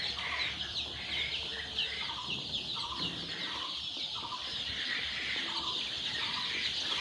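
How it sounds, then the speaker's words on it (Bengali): Farm chickens at a poultry farm holding around two thousand birds, clucking and squawking in a busy overlapping chorus, moderately close, with a steady background hum and no speech. "এখানে 2000 ফার্মি মুরগি আছে"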